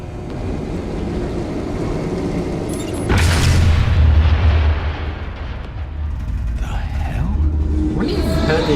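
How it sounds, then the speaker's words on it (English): In Batman: The Telltale Series, a heavy explosion erupts midway with a loud, deep boom and rumble that rises over a steady background roar, then settles back into a lower din. "Heard the explosion."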